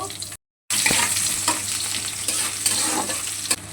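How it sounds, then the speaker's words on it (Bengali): Chopped onion frying in hot oil with whole garam masala for a country chicken curry, a loud dense sizzle after a brief silent gap, with light stirring scrapes and no speech. "এরপর আমরা তেল গরম করে নেব, গোটা গরম মশলা অ্যাড করব, কুচিয়ে রাখা পেঁয়াজটা দিয়ে দেব।"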